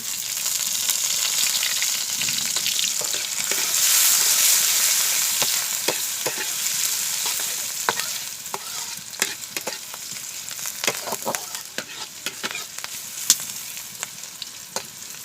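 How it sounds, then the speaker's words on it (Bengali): Vegetables, beans among them, fry in a pan for daliya pulao. A steady close sizzle runs throughout, with sharp clinks and scrapes from stirring growing more frequent in the second half. "প্রথমে সবজিগুলো হালকা নেড়েছে একটু ব্রাউন করে নেব"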